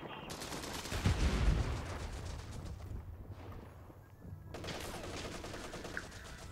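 Rapid gunfire bursts from the video game Company of Heroes 3 crackle through a busy battle mix, with a heavy thump near the start and steady shooting throughout, at moderate loudness.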